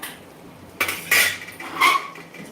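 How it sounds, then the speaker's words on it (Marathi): A metal spoon being washed with hot water clinks against a dish in three short, close bursts, separated by quieter running-water hiss. "असं चमचा धुवून टाकूया"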